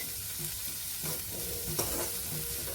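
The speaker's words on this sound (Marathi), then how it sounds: "थोडं परतून घेऊया आणि गॅस घालूया" Sprouted salad seasoned with red chili powder and salt is sautéed in a pan, giving a quiet, steady sizzle with soft stirring scrapes throughout and one brief sharper clatter partway through.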